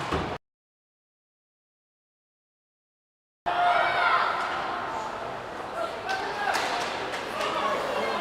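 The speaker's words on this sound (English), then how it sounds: "The vociferous Indiana crowd cheering on" Indiana crowd cheering at a girls' U19 hockey semifinal, a loud roaring wash of voices and claps that bursts in after a short silence and carries on steadily.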